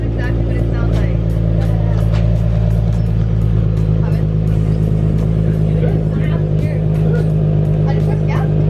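A Nissan NISMO fitted with a titanium Tomei dual exit exhaust idles with a deep, steady exhaust rumble close by, while people talk over it throughout.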